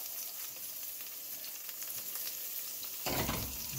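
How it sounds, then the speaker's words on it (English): Hot gravy for loco moco sizzles in a pan as it is stirred, a steady close crackle that grows louder and fuller in the last second, with no talking. "Stir it up just a little bit."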